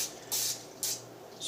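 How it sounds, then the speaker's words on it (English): Pam cooking spray is sprayed onto a fruit-leather tray in a dehydrator in three short bursts, each a sharp hiss lasting a fraction of a second, close and clear over a quiet background. "spray a little bit of Pam"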